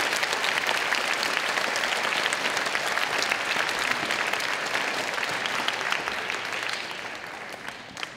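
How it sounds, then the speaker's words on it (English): A ceremony audience claps for the guests at an educator award event, a loud, dense wash of applause from a large crowd that holds steady for most of its length before gradually thinning and fading toward the end. "So can we give one more round of applause to all of our guests that are here today?"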